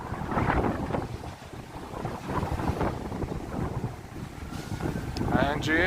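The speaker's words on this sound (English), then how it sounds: "I think we're getting a wind now." Strong wind buffets the microphone on a New York City street, a loud, gusting rumble that rises and falls throughout, with faint street noise underneath.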